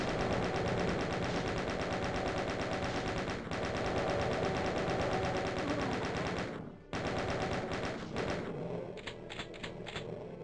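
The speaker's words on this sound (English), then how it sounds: "Well, let's use some chain gun ammo." Chain gun fire in the video game Doom: a loud, sustained stream of rapid, evenly spaced shots, broken by one short pause before the firing resumes.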